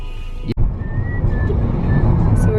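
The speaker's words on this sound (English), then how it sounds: "So we're driving out of the canyon now." A car drives out of a canyon, its engine and road rumble holding a steady, fairly loud drone after a brief dropout near the start.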